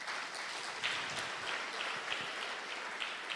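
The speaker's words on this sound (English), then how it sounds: "I think they deserve a better round of applause for this great engagement." Audience at a conference in Nigeria applauding, a brief burst of dense, steady clapping from a roomful of people at moderate level.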